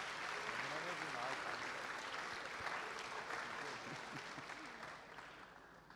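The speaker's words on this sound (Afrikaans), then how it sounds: "Geef opa en oma lekker aan de klapie" A church congregation applauds the grandparents, steady dense clapping from a crowd that fades slightly toward the end.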